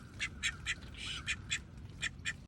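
A pet duck quacks in a quick series of about eight raspy calls, close and clear over quiet background.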